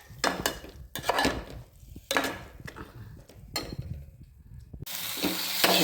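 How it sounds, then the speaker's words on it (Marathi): Green masala stirred and fried in oil for a brinjal rassa: several loud, uneven bursts of spatula scraping against the pan over sizzling, ending in a steadier, brighter hiss of frying. "आता हलवून घ्यायचं चांगला मसाला. तेल सुटत नंतर चांगला हलवून घेते."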